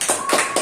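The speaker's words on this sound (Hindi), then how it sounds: "पुनः परमेश्वर के लिए एक अच्छी ताली बजाएं।" A church congregation claps in praise, with three loud, broad bursts of collective clapping in quick succession, close and energetic.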